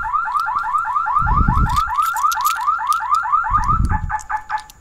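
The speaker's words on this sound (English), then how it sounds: "Alarm is there. Let's get the alarm." A BMW E36 328i car alarm wails in rapid rising chirps, loud and near, repeating continuously, with a couple of low thumps underneath.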